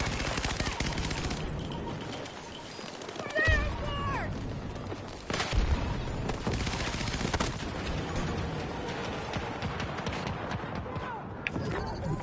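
Rapid gunfire from the shooter game Battlefield 2042, with bursts and single shots crackling throughout amid game noise while someone talks over the action.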